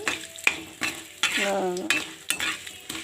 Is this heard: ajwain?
yes